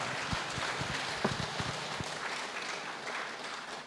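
Audience in a seminar hall applauding a speaker, a burst of scattered hand claps that thins out and fades over a few seconds.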